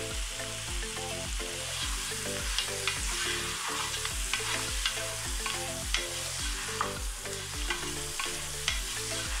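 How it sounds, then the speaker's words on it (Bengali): Goat meat fries in oil with onions for biryani, giving a loud, steady sizzle broken by regular stirring scrapes, with a faint rhythmic low tone running underneath. "তেল আর পেঁয়াজের ভেতর মাংসগুলোকে 2 মিনিট ভেজে নিচ্ছি"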